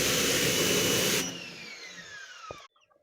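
A pressure washer blasting a chicken coop, a loud broadband spray roar that cuts off after about a second, leaving the motor whining down in pitch before falling quiet.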